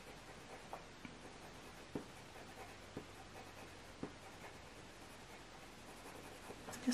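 A cold grey coloured pencil strokes across paper while drawing a robin, producing a faint, soft scratching with small regular taps about once a second, quiet and close with no talking.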